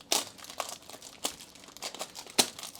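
Plastic packaging around a Beyblade spinning top set crinkles and tears as it is opened, with several sharp crackling bursts between softer rustling, close and alone.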